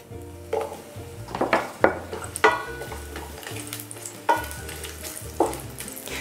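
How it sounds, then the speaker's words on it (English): Ginger and garlic frying in sesame oil over medium heat for three cup chicken, a close crackling sizzle punctuated by several distinct spatula scrapes and clanks against the pan, without talk. "So we are going to cook this at medium heat until the aroma and flavors of the garlic and ginger is all extracted into the oil"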